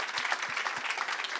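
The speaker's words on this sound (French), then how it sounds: "Je crois qu'on peut une nouvelle fois féliciter et applaudir" Audience applause at an awards ceremony, a steady wash of many hands clapping together for a brief moment.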